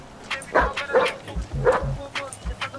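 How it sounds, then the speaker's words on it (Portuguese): Dog barking in the GTA V video game, a few short yips and barks spread across the moment, fairly close, with people talking over it. "Acho que o cachorro tá latindo já."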